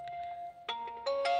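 A phone ringtone plays a simple electronic melody of bright tones, fairly quiet, with a short pause partway before it resumes.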